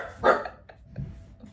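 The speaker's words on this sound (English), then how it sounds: "My darling little guard dog." A small dog indoors gives a sharp bark, then a couple of softer, shorter yips trailing after it, close by and with no talking.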